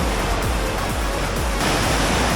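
Strong ocean waves break at a surf beach in Bali, a loud continuous roar of churning surf with rolling surges, close and full, without speech.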